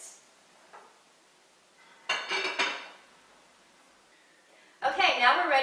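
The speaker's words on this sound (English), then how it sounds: "I'm going to put the lid on and let it wilt down" A metal lid set onto a pot of Tuscan soup in a home kitchen: brief clanking and clinking bursts, close and moderately loud, separated by near silence.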